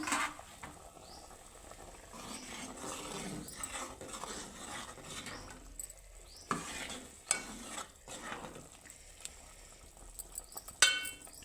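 Potato, tomato and onion curry stirred in a pan, with quiet intermittent scraping and soft clinks of a spoon over a low simmer, and occasional louder knocks.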